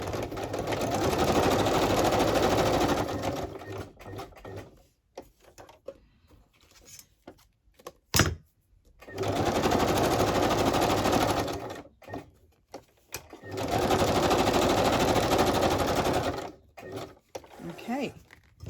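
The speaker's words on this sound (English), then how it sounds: "I'm going to straight stitch so I don't lose too much of my pocket space." A sewing machine straight-stitches around a junk mail pocket in three loud, steady whirring bursts, with brief pauses and handling noises between runs.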